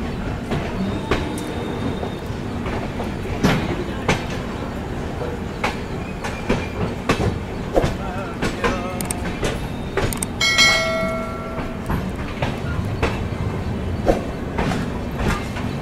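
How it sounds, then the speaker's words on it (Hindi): The Trivandrum Rajdhani Express runs along the track, heard from inside an AC coach: a steady rumble with rhythmic wheel clicks and clatter, sharp knocks, and a brief metallic squeal partway through. "निर्धारित समय से अपनी ट्रेन निकल चुकी है निजामुद्दीन रेलवे स्टेशन से"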